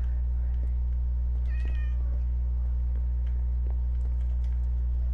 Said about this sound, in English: I kind of want to tame the cat.